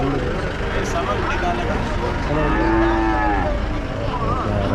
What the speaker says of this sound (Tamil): நல்ல தரமாக இருக்குது காளைங்க